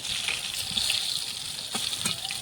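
Eggplant frying in oil, a close, continuous bright sizzle with a few soft stirring or turning knocks.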